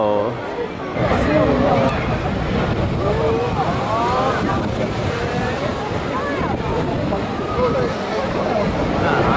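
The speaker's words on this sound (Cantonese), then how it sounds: "就喺度聽下海先" Sea waves wash steadily on a shore on a fine day near a bus stop in the Kansai region of Japan, a continuous loud surf mixed with wind buffeting the microphone.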